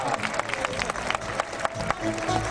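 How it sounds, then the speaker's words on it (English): Audience at a Sea World San Diego show clapping for a volunteer, a moderate, fairly distant patter of applause with scattered sharp claps and some voices mixed in. "How about a nice round of applause for Maureen?"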